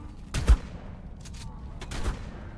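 Gunfire in ARK: Survival Evolved during an Ice Worm Queen boss fight: a few scattered shots, the strongest burst near the start and softer ones later, over a low steady background rumble.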